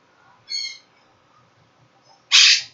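A pet parrot calls back to another bird in a quiet home: a short whistled call, a pause, then a louder harsh squawk, fairly close.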